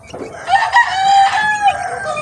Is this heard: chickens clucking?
yes